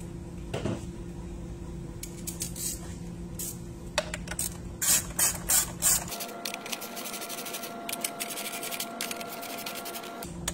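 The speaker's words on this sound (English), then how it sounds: "Grab our ratchet." A ratchet tightening the bolts on a J&L 3100P-B oil catch can, passenger side, on a Honda Civic Type R 2.0T: short bursts of quick metallic clicking over a faint mechanical hum, close by.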